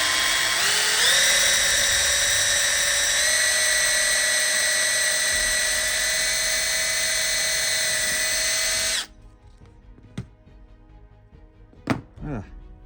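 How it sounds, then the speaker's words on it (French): Drill press boring pilot holes into small parts for HO-scale model traffic signals: a loud, steady motor whine with a bright tonal hum, which stops abruptly, followed by a few sharp clicks and knocks. "Après, vous pouvez utiliser une perceuse à colonne."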